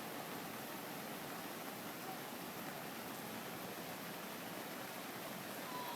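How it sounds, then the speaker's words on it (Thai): The Moei River runs fast and strong after a water rise near the Thai–Myanmar friendship bridge, a steady, dense broadband rush with no breaks or changes throughout. "ตอนนี้ระดับน้ำไหลแรงมากนะครับ"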